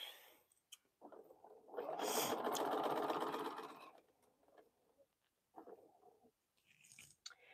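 A sewing machine stitches bowl cozies during a quilting session, running in one steady whirring burst of about two seconds, close and fairly loud, with brief bits of talk before and after.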